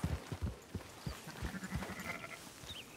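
Sheep bleat repeatedly in Red Dead Redemption 2 during a herding mission, a flock of overlapping, close-up bleats in an irregular rhythm over light hoof and ambient noise, with no talking.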